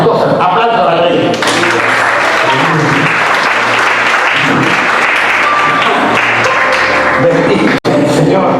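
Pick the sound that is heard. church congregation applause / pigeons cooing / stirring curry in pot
church congregation applause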